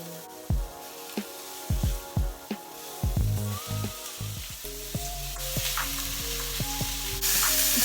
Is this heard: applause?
no